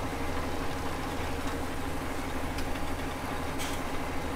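Steady low idling tractor engine from Farming Simulator 2017, a small voucher tractor, droning evenly and close throughout with no talk.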